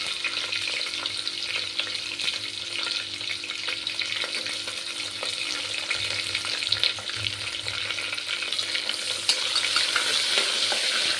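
Onion and garlic sizzle steadily in hot oil over a high gas flame, a continuous close frying hiss with occasional stirring scrapes and no talk.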